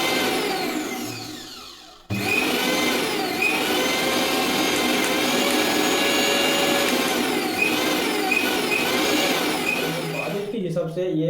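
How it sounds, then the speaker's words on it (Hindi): A Flipkart SmartBuy 750W mixer grinder runs loudly and steadily, its motor whine carrying a faint whistling tone, starting abruptly after a quieter lead-in and cutting off near the end. "ये जो मिक्सर है ये एकदम ठीक ठाक है"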